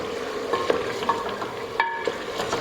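Spices and masala with turmeric roast in a pan for palak gosht, a close, steady sizzle punctuated by soft scraping stirs.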